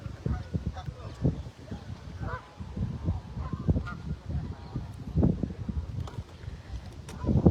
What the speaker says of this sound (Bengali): কি সুন্দর হাঁস।